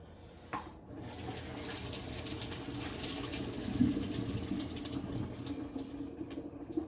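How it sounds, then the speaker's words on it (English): Hot water pours from a cooking pot into a colander or strainer in a sink while making mac and cheese, a steady close rushing splash lasting several seconds after a brief knock, with no talk. "I just dump that into a strainer or colander"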